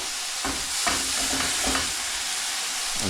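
Meat browning in a frying pan, a steady sizzle with periodic scraping and stirring strokes of a utensil against the pan, close and moderately loud, no talking.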